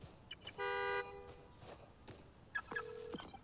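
Two car horn honks from a remote key in the Spider-Man: Miles Morales video game: a steady, clear blast lasting about half a second, then a shorter, lower honk a moment later, over faint street ambience.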